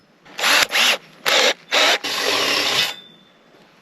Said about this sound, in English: So right now we've been going through with this drill with a pre-drilling hole, an 8 mil, and this drill bit here doing the final holes